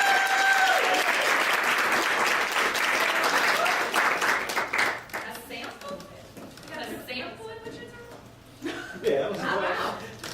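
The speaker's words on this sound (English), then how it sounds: "Give her a big round of applause." An audience bursts into loud, dense applause that gradually thins into scattered clapping and chuckles, with voices talking over the fading claps near the end.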